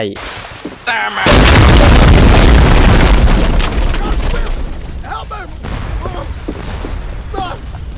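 A sudden heavy cannon blast from a ship's cannon in the video game Guts and Blackpowder booms out, followed by a long, loud rumbling roar that slowly fades, with faint voices in the background.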